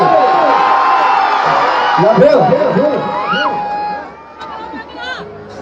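A large crowd at a live Bhojpuri stage show in Punjab cheers and shouts loudly in a sustained roar, with whoops rising over the din, which thins out toward the end while music lingers underneath.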